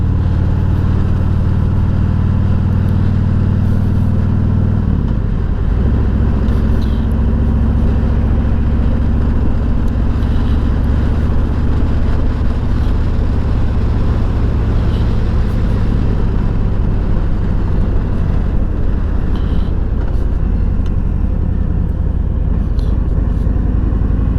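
A 2021 Harley-Davidson Freewheeler cruising on back roads, its deep engine rumbling loudly and steadily close up, with wind noise and a shift in engine tone around five seconds in.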